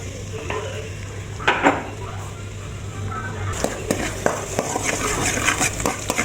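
Garlic fries in oil in a pan for stir-fried squid with salted egg, a close, steady sizzle broken by scraping spatula strokes and pan knocks, with someone talking over it at moments.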